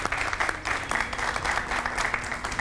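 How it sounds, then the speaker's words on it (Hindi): Studio audience applause on an Eid-ul-Adha television show, dense, continuous clapping from a crowd, close and fairly loud throughout. "बहुत सारी तालियां मारिया बलोच के लिए"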